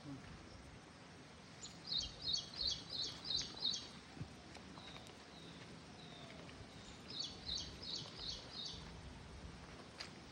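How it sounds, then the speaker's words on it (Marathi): Small birds chirp in two quick bursts of repeated high notes, fairly close, against quiet forest ambience with scattered softer calls and a faint stream of flowing water in the background. "पक्ष्याचा किलबिलाट ऐकू येऊन राहिला"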